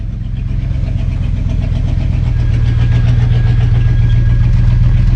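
A Chevy C10 squarebody pickup's carbureted engine, just fired up on a fresh battery, runs at a loud, close, steady idle with a rough rhythmic pulse that grows slightly stronger as it settles.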